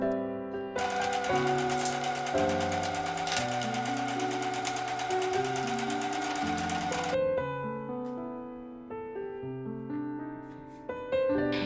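A sewing machine stitches seams on a denim tote bag in one continuous rapid mechanical whirr lasting several seconds, under steady background music that carries on after the stitching stops.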